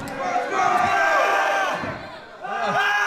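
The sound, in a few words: wrestling crowd cheering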